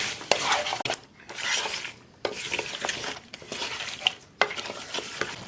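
A spoon scrapes and stirs turmeric, chili powder and coriander powder into pumpkin pieces in a pan, in repeated rough strokes with faint sizzling, close by.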